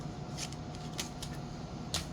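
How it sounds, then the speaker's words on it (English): Tarot cards being shuffled by hand, several soft crisp riffling bursts spaced irregularly over a quiet background hum, close and fairly faint, with no talking. "let me shuffle again"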